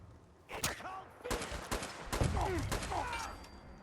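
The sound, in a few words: gunfire hitting player in video game Fallout 4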